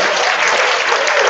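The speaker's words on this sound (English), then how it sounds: "So let's give her a round of applause today." A crowd applauds at a program event, a dense continuous burst of clapping, loud and even throughout.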